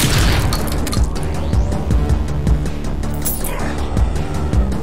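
Dynamite blast in the retro shooter game Project Warlock, loud booming bursts amid ongoing gameplay noise and repeated impacts.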